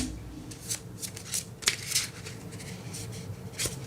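Playing cards being shuffled in repeated riffling bursts, crisp and close, with brief pauses between shuffles and no talking.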